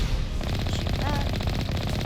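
Rapid automatic gunfire in the Mass Effect video game rattles in a loud, dense, continuous burst close up.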